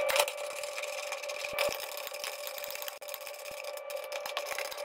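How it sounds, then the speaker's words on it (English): A 7 mm socket on an extension turns fuel filler neck bolts on a 1994-1997 Mazda B2300 pickup, giving a steady mechanical whir with small clicks, close and fairly quiet. "there's three bolts in total, 7 millimeters for each of them. So I got a 7 millimeter socket and the extension."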